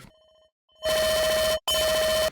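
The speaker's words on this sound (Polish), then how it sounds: "To jest mój budzik." An electronic alarm clock rings: a faint repeated beeping tone, then a loud, dense ringing burst that pauses briefly and resumes, filling the room with no talk.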